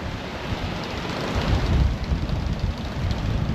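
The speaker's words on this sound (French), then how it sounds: "regarde l'état de la mer, on a 23 nœuds de vent" Constant rushing sea and heavy wind noise in 23-knot wind aboard a boat on an ocean crossing, loud and close, with surging water swelling midway and no voices.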